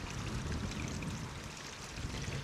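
Water flows steadily from a tap fed by a natural spring on a hillside trail, a constant soft rushing and splashing that holds at the same level throughout with no voices.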